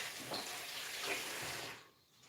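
Tap water runs steadily into a sink while plates are washed, a close, continuous hiss that fades out near the end.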